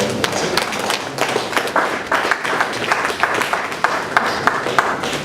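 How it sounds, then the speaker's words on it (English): Audience applause at a power-sector dialogue event, a sustained crackle of many hands clapping with scattered louder claps, moderately close and steady for several seconds without talk over it. "Ladies and gentlemen, please a round of applause for"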